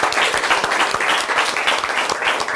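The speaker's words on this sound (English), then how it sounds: "let's clap once again for each other" About fifty college students applaud one another in a hall, a dense, loud, continuous wash of many hands clapping at once, sustained evenly throughout with no voices on top.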